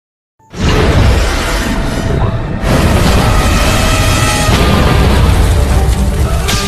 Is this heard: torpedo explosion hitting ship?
yes